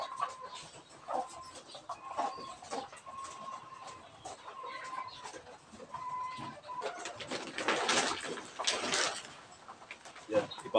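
A hen clucks at her nest in soft, scattered bursts, fairly quiet and close, with rustling and other small background noises between the calls.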